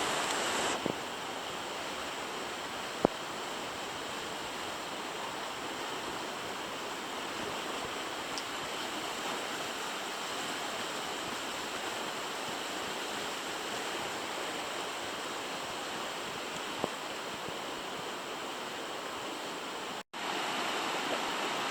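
The small Siffleur River flows steadily beneath a short trail bridge, a quiet, even rushing wash with a few faint knocks and clicks.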